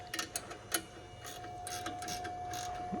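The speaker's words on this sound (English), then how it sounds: "now time for a wrench" A ratchet wrench turns a 1/2 inch bolt with several quick, faint clicking bursts of the pawl near the start, followed by softer mechanical ticking against a steady background hum.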